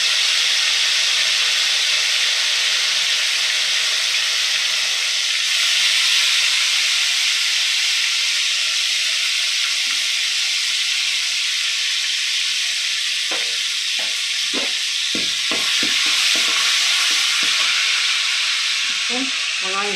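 Ginger and garlic sizzle and fry steadily in a pan for Tamil appalam kuzhambu, a continuous loud hiss with a burst of scraping stirring clatter near the end.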